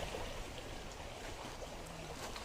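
Soft, constant rush of a stream flowing beside a tent campsite at a hillside farm in Suan Phueng, Ratchaburi, a faint even babble with no voices over it.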